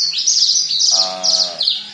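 A bush lark, either the parva or the javanica form, calls in a loud, close series of high chirps and trills, and a short buzzy lower note cuts in midway.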